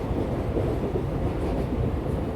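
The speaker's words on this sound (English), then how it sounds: "The train glides onward" A train rolls steadily along the rails with a continuous low rumble and a faint rhythmic clatter underneath, evenly loud throughout with no voices.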